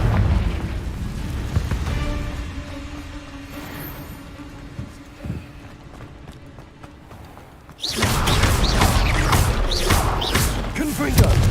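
A Confringo blast spell goes off in Hogwarts Legacy combat on hard mode: steady game background gives way to a sudden loud, roaring burst that keeps rumbling to the end.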